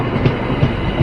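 Loud, close rumble of a train arriving at a UK station, with a rhythmic clatter of wheels rolling over track joints, a heavy continuous roar.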